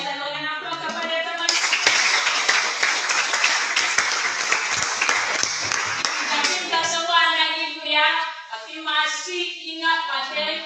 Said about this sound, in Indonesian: berikan aplaus kepada teman